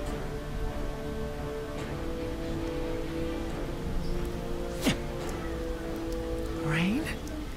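Spray from a collision in Naruto Shippuden Ultimate Ninja Storm 4 falls like rain, a steady hiss beneath sustained tonal music with a few sweeping whooshes, the second one rising near the end.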